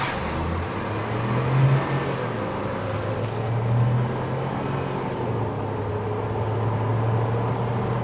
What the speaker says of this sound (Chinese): 我们来做一个0到100的测试，好吧？